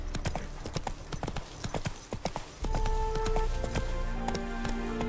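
Hooves clip-clop steadily from Roach, a horse ridden in The Witcher 3: Wild Hunt, with a regular walking rhythm up close. A brief voice and ambient game music come in partway through.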